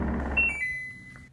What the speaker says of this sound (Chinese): 等待闹铃声响